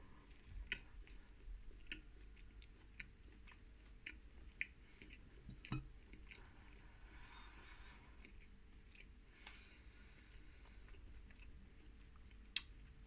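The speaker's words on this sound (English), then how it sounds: "A lot of chewing to get to the end of that." Close, quiet chewing of a square sausage sandwich, with soft wet mouth sounds and occasional sharper bites scattered through a steady rhythm, with no voices.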